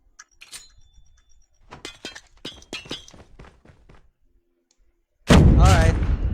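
In a battle royale video game, a few quiet clicks and scattered taps lead to a sudden, loud frag grenade blast at the very end, which stays heavy and roaring until the sound cuts off.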